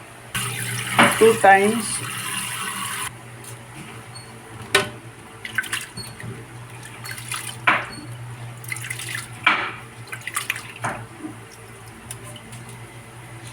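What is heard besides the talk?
washing rice under running tap water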